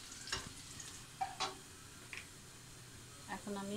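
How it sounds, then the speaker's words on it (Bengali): Chopped garlic fries in a pan with a soft, low sizzle. Faint stirring clicks and scrapes come through, and a voice speaks briefly near the end. "রসুন কুচিটা আমি গোল্ডেন করে ভেজে নিব।"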